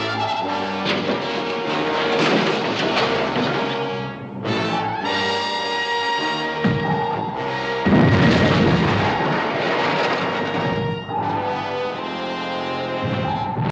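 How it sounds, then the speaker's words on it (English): A submarine firing a laser beam in a television drama, with booming explosions and a whining, tonal electronic blast in loud waves, dipping briefly before surging again. "When we reach 500 yards, open fire with a laser beam"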